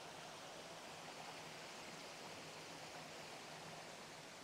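A brook flows through high-banked woodland in North Wales toward a small pool, giving a steady, broad rushing of water that holds even and unbroken throughout with no voices.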